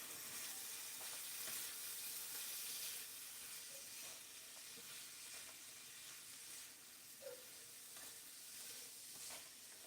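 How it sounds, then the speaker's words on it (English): Onion added to a pot of browned beef for beef stew fries with a steady, faint sizzle and occasional soft stirring clicks, continuous with no talking. "Time to add in some onion"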